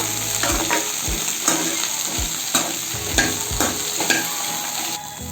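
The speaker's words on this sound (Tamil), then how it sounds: "வதக்கி எடுத்துக்கணும் பாருங்கள் இந்த அளவு வதக்கி எடுத்துக்கணும்" Okra sautés in hot oil with a constant close sizzle while a spatula stirs in regular strokes, scraping the pan about twice a second.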